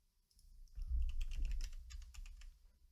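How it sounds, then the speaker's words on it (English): A burst of keystrokes on a computer keyboard, typed with gloved hands, gives a quick run of soft, muffled clicks that comes in close after a quiet start. "Feels strange typing in these gloves."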